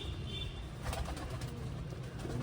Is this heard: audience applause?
no